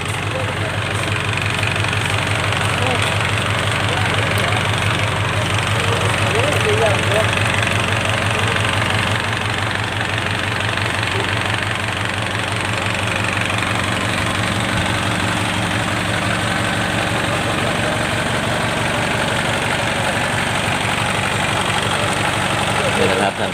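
A truck engine idles in a village: a loud, steady, low rumble with a constant knocking pulse that runs unbroken throughout.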